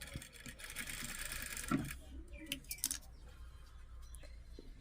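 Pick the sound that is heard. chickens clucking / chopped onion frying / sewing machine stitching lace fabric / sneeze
sewing machine stitching lace fabric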